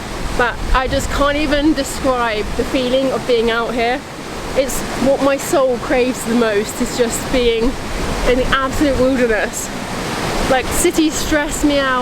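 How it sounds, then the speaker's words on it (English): Steady broadband rush of a waterfall in the Welsh wilderness, loud and continuous beneath someone talking close up throughout. "because obviously I have a waterfall behind me"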